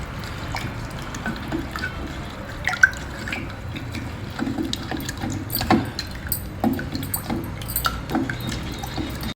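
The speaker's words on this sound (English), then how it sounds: "Now mix this together very well without any lumps." Rice flour batter is stirred and sloshed with room-temperature water close by, with soft liquid squelches and light utensil taps scraping against a bowl.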